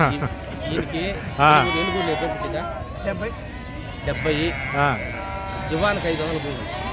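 Several sheep bleating repeatedly, loud and close, at the Gudur sheep market as they are caught and loaded onto a vehicle, with people talking in the background amid the flock.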